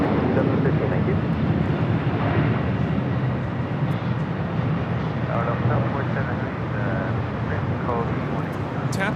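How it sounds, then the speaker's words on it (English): A TAP Air Portugal A330neo takes off at LAX, a steady, powerful jet roar filling the air while people chat nearby. "TAP Air Portugal, flight 248, taking off to Lisbon on the A330neo"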